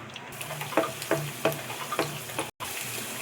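Garlic sizzling in hot oil for a carrot fry, a soft crackling fry with a run of rhythmic light taps and scrapes from stirring, close and fairly quiet, with a brief dropout near the end.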